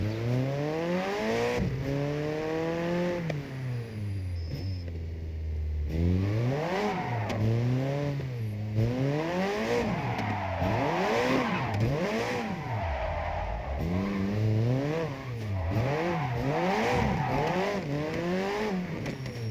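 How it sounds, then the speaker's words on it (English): A car engine revs repeatedly, loud and close, rising and falling in long sweeping waves with a clattering edge, playing alone without talk. "Because the car engine noises are quite loud."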